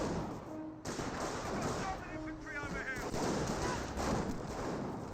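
Battlefield gunfire in the video game Company of Heroes 1, aimed at Panzer Grenadiers, a dense continuous crackle of rifle and machine-gun shots with occasional louder bursts at moderate volume.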